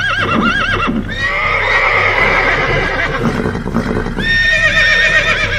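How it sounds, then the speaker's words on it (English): Terrified horses neigh and scream in loud, close, overlapping whinnies, several calls rising and wavering across the span, with some stamping beneath. "When he drew near the horses, they began to jump and to kick about, then to scream with terror."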